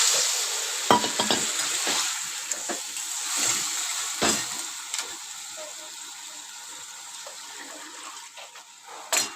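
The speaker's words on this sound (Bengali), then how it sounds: "কাঁকড়গুলো দিয়ে দিলাম একটু মিশিয়ে নিয়ে" Crab pieces sizzle in a pan while being stirred, with a steady frying hiss and scattered scraping clicks of a spatula against the pan, close and moderately loud with no talking.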